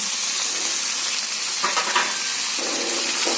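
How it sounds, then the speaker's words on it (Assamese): Carrots, peas and French beans fry in oil in a pan for paneer pulao, a loud, steady sizzle and hiss with a few brief scrapes of stirring. "এতিয়া গোটেইখিনি মই 5 মিনিট ভাজিম।"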